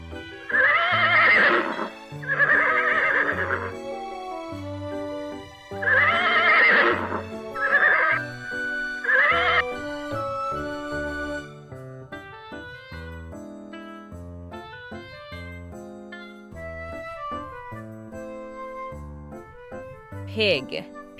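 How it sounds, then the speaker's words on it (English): A horse neighs in several loud, clear whinnies spread over the first half, followed by a quieter stretch of varied background sounds and a brief high jingle near the end. "O-R-S-E, horse."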